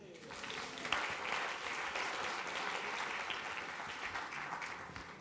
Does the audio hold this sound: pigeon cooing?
no